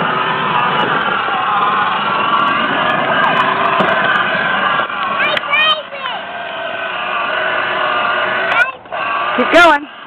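A child's ride-on toy fire truck sounding its electronic siren, a continuous warbling wail close by that breaks into short chirps and stops near the end, with voices talking over it.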